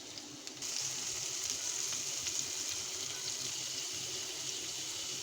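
Onion and garlic frying in a pan, a steady close sizzle that jumps louder early on and then holds as a continuous hiss, with no talking.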